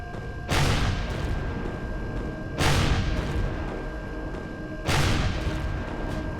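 Heavy gatling turret fire in the space game Empyrion Galactic Survival, from a Leviathan capital ship: three loud booming bursts spaced about two seconds apart over a constant background hum, no voices.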